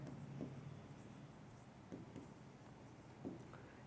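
Chalk or marker scratching across a board during a Class 10 arithmetic progression maths lesson, with faint, irregular strokes against a steady background hiss.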